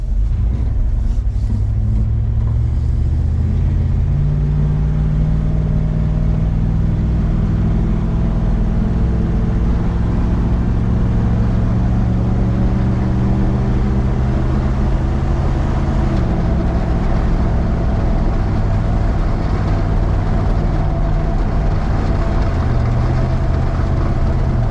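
A car engine with a new exhaust and budget catalytic converter drones loudly and continuously from inside the vehicle, with a deep exhaust rumble rising and shifting pitch as it accelerates through gears.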